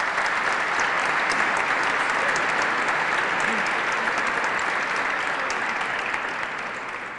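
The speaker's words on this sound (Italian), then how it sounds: "Ci vuole un applauso ora per Camaldoli." A large audience at a church talk gives sustained, even applause for Camaldoli, a steady wash of many clapping hands that stays loud throughout and eases slightly at the end.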